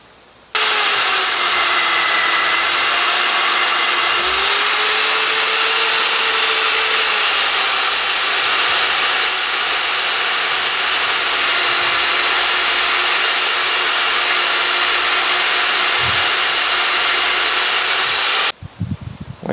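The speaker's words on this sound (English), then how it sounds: "This is perfect when you're doing drilling like this." A Euroboor ECO 50S+ magnetic drill cuts steel with a 4-inch (100 mm) annular bit, a loud sustained whine with a steady motor hum that holds and shifts slightly in pitch for about eighteen seconds before stopping abruptly.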